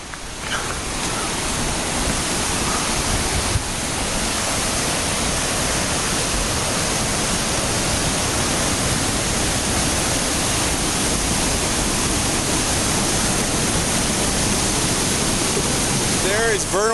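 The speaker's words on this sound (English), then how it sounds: "It is really loud right now. The water is just going crazy." Roaring waterfall at Vernal Falls in Yosemite Valley, a loud, constant rush of crashing water filling everything, dense and unbroken throughout.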